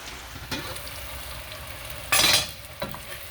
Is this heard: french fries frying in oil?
yes